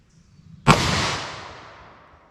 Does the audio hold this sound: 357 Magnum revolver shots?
yes